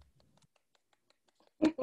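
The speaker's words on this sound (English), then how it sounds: "I'm clapping for all of us." Two quick, close hand claps land at the very end, after near silence broken only by faint small ticks.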